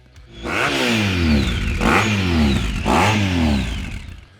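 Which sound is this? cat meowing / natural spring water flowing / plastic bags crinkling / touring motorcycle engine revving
touring motorcycle engine revving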